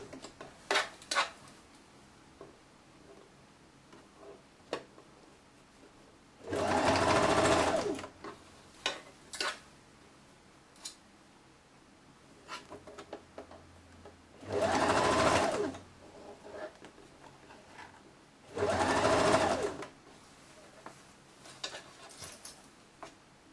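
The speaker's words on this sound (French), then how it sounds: "Là, on coud la deuxième manche." Sewing machine stitching the sleeve of a woman's blouse with a Peter Pan collar, three loud bursts of rapid mechanical whirring separated by quiet stretches of small clicks and fabric handling.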